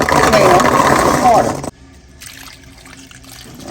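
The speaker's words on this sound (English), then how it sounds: "Water." Water pours steadily into a pot for homemade cranberry sauce, a loud close splashing stream for about a second and a half, then stopping abruptly to leave quieter kitchen background.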